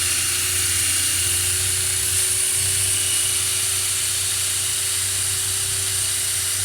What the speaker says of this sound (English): You're just smoothing the bearing out.